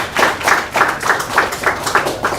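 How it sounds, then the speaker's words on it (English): Audience applause at a talk on commercial AR and VR technology, a steady wash of many hands clapping with rhythmic swells, close and fairly loud throughout. "One more round of applause for Ronnie."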